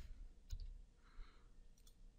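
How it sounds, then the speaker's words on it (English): A computer mouse being left-clicked while highlighting cells in Stata, giving a few faint, sharp clicks close by against a quiet background. "left clicking and highlighting"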